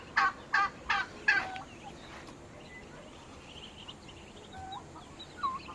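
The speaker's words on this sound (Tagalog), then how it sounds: "Ayan, pabo, bibe." Farm turkeys gobble in a quick burst of four loud rattling calls at the start, followed by softer, scattered fowl calls and quacking-like notes over quiet outdoor background noise.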